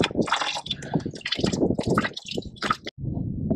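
Coolant draining from a van radiator, close gurgling and splashing liquid with uneven glugs and squishy bursts pouring continuously, one brief break near the end.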